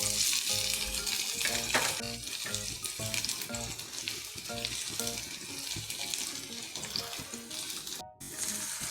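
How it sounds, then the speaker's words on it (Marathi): Chopped onion and garlic frying in hot oil for a methi bhaji, a loud continuous crackling sizzle with scraping and stirring clatter, no talking. "तेल टाकले भाजी करता तर हा कांदा टाकते मी"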